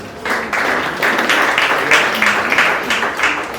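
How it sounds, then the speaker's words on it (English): Students at a university research and supervision workshop in Kigali applaud themselves, a dense, steady patter of many hands clapping throughout at moderate loudness with no speech. "give yourselves a round of applause"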